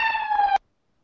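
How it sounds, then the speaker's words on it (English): An ambulance siren on a San Francisco street gives a brief, clear wailing tone that cuts off abruptly, with silence after it. "that ambulance going by"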